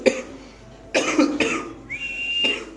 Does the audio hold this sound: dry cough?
yes